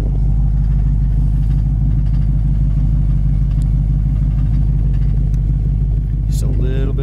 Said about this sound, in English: Just a little bit of an exhaust rattle there.